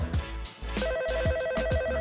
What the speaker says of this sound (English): Is that your phone ringing?